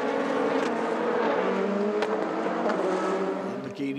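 Lamborghini and Ferrari endurance race cars running together at Imola during a European Le Mans Series race, a loud sustained engine roar with shifting pitch as they pass, and a commentator speaking faintly underneath.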